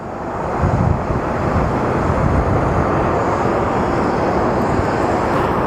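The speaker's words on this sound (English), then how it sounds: "up next we have Southwest 3659 departing for Albuquerque" Southwest Airlines jet departing Phoenix Sky Harbor for Albuquerque, a steady broad engine roar that holds loud and even throughout, with wind buffeting the microphone and no voices.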